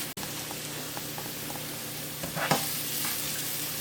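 Onion and freshly grated garlic fry in a pan with a steady, bright sizzle, broken by a sharp clack near the start and a brief burst of stirring toward the middle.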